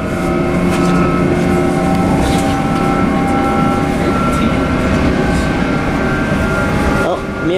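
A train rumbles loudly and continuously close by, with steady rolling noise and a few high squeals near the end, as people talk over it.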